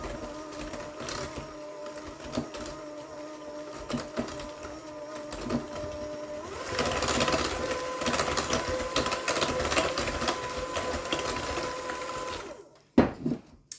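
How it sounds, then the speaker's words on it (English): Mashed bananas being mixed into cookie dough with an electric mixer, a steady whirring drone that grows louder and busier midway, then cuts off with a final clatter. "So we're going to mix that all up in here."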